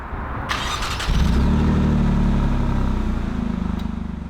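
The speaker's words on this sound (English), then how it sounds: "let's see what it sounds like on startup" An Alfa Romeo Stelvio Quadrifoglio SUV engine, 503bhp, cranks and fires up, settling into a deep, steady idle rumble with a slight pulsing throb, close and loud.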